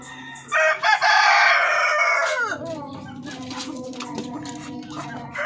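A Darag breeder rooster crows loudly and close by, one long call, followed by softer clucking from the chickens on a farm.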